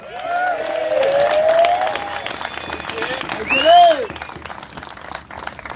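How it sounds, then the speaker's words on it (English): A rally crowd listening to a speech in Canberra cheers and applauds, a steady wash of clapping and voices with a speaker's voice ringing out over it. "Big cheer for Jim Greer."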